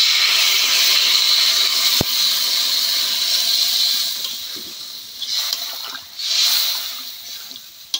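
Water poured into a hot pan of fried spices while cooking a Bengali fish curry with ridge gourd and potato, a loud steamy hiss that drops away after a sharp clatter, then smaller sizzles flare and fade.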